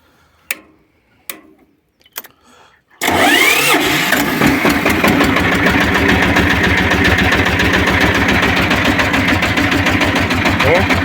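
A Shifeng engine fitted with a homemade muffler is started after a few quiet knocks and then runs steadily, its close, rhythmic thudding chug continuing evenly to the end.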